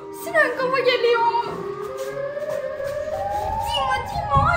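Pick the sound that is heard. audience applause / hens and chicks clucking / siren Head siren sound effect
siren Head siren sound effect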